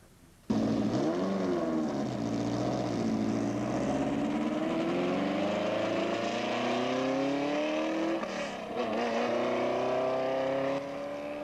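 Alfa Romeo T33 Sportiva race car with a V8 engine and six-speed gearbox, under test in New Zealand, its engine droning loudly and steadily as the pitch climbs and eases through the gears, with a brief lift near the end.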